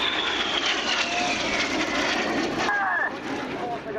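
The Red Arrows Synchro pair of jets roar past at an air show, a loud, sustained jet rush with a sweeping pitch change as they pass, while a commentator talks over it.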